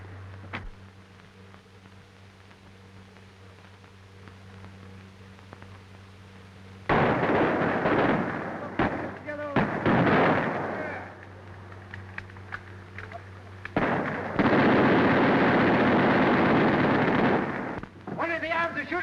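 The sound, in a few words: gunfire in a 1937 adventure film battle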